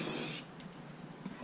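A short hiss from a rattle can of spray paint aimed at a rally car hood, a bright burst lasting under half a second before it cuts off to quiet background hiss.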